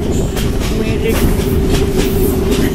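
Passenger train rolling on rails, heard from inside a carriage on a Myanmar line toward the Gokteik Viaduct: a loud, steady low rumble with repeated clickety-clack wheel beats throughout, no talk.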